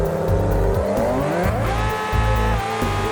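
A car in BeamNG Drive floors it toward top speed, its engine loud and close, revving up through rapid gear shifts with rising whine and brief drops between gears, alone without talk.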